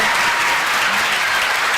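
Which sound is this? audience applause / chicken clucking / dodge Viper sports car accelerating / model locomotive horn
audience applause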